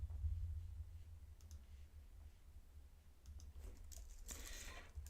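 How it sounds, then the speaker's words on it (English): A computer mouse clicks softly a few times to open Discord in a quiet room, with a brisker cluster of clicks near the end. "Let me click on Discord."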